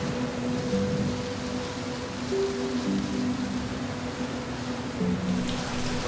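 Rain falls steadily on a wooden hut in the Thai jungle, a dense, even hiss of drops close around, with a faint low hum running underneath.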